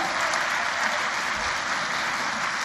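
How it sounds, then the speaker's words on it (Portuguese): A crowd of women applauds themselves at a church gathering, a dense, steady wash of clapping that holds evenly throughout at close range with no talk over it. "Todo mundo batendo palma para si mesma"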